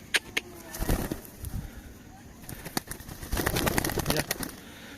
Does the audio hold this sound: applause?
no